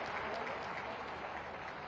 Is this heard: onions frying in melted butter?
no